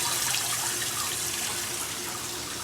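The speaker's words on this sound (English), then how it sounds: "I'll fill this with some water just for why not." Tap water pours steadily into a container in a camper or RV being unwinterized, a continuous close, even rush of running water with no voices.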